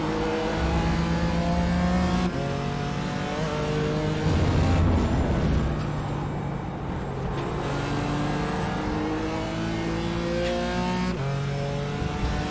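Several GT4 race cars in the iRacing sim at Donington, engines revving and shifting in steady rising-pitch sweeps as the pack passes, loud and continuous with overlapping cars throughout.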